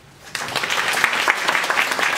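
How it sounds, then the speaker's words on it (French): Audience applause bursts in after a quiet moment, a steady patter of clapping hands that holds at even volume to the end. "On l'applaudit."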